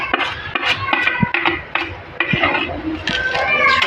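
Dry vermicelli (sev) tipped into a pan of melted ghee for sevaiya kheer, with scraping, clinks and stirring against the pan in short bursts, close and fairly loud.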